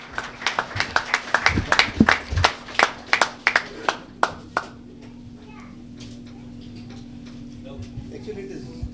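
Applause for a guest receiving a certificate of honor at a newspaper's second anniversary event, a burst of sharp individual claps from a small group for about four seconds, then quieter room noise with faint voices.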